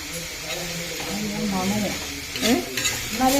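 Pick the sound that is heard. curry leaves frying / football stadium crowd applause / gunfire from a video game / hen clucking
curry leaves frying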